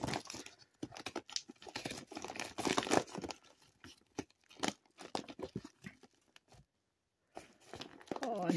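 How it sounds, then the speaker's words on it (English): Tearing and crinkling of a thread-sealed paper bag of gorilla chow, done one-handed, with irregular close rips and rustling bursts separated by brief pauses and a longer gap near the end. "I haven't opened one of these bags in years."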